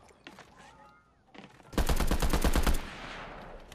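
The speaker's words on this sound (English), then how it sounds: "Somebody sniping from behind me." Gunfire rings out in a Fortnite match, with a few scattered shots followed by a loud, rapid burst of about a second.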